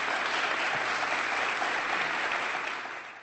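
Applause from a crowd greeting the announcement of a new bishop in the Diocese of Cartagena, dense and sustained, tapering slightly at the end.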